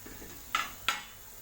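Brinjal pieces being sautéed in masala in a pan, heard as two quick metallic scrapes of a spoon against the pan over a faint background hiss.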